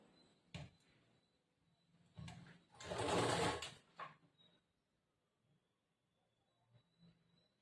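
Sewing machine stitching along a folded side edge of fabric during blouse making, heard in several short bursts with one longer continuous run in the middle and quiet pauses between.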